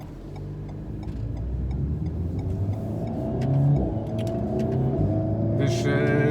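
Alpine sports car engine in track mode, a steady close engine hum that swells into a brief rev midway, with someone talking over it.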